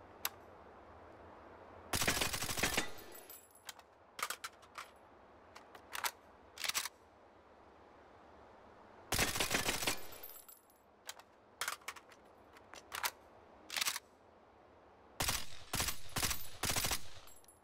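AK-style gun firing in the VR game H3VR: loud short bursts and single shots spread across the span, with mechanical clicks and clacks of handling and reloading between them, no talk.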